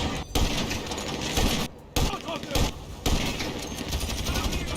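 Rapid gunfire crackles in a GTA Online heist mission, bursts of shots with short pauses, loud and close, while players chat over it.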